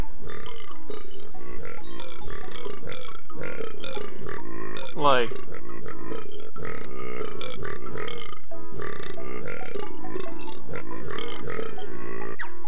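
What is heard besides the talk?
character burping in video game Banjo-Tooie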